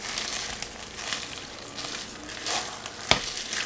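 Potato soup with melting cheese is stirred in a crockpot, soft scraping and wet, sloshing swirls with a sharp clack of the spoon against the pot near the end.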